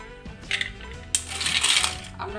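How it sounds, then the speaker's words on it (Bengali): Ice cubes are dropped into glasses of raw mango drink, producing bright clinking rattles and a burst of glassy tinkling, heard up close with no talking. "এবার আইস দিতে দিচ্ছি"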